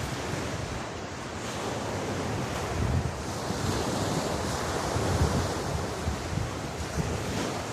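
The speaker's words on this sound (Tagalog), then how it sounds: "Ang ganda pa naman ng alon ngayon" Ocean waves break continuously on the shore at a surf spot, a dense, loud wash of surf with gusts of wind buffeting the microphone and no voices.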